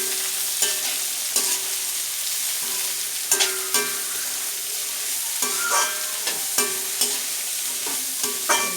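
Onion and mixed vegetables sautéing in a hot pan, a continuous sizzle broken by repeated scraping and clattering stirring strokes, close and clear with no talk.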